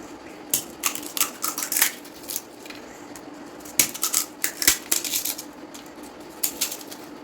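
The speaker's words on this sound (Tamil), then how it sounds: "இப்போ நம்மளோட பூரியை வந்து அதில் உடச்சி சேர்த்துக்கலாம்" Fried puris are crushed by hand into a bowl for chaat, giving close, crisp crackling snaps that come in irregular clusters with short quiet gaps.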